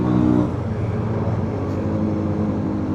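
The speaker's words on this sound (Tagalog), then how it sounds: "Grabe, lakas ng tricycle" A loud tricycle engine passes close by on a road near the Arko ng Antipolo, its broad rumbling drone swelling at the start and then holding steady with a dense low growl.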